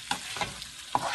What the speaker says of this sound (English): I'm just going to stir the rice a little bit